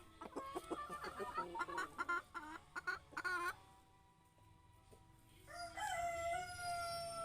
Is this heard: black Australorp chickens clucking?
yes